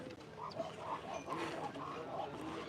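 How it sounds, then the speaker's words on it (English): A dog breathes with a wheezy, asthmatic rasp, close by and steady across the whole stretch, with a low hum of outdoor background underneath. "The asthmatic sound's not me, it's actually the dog."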